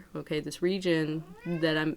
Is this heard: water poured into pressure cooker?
no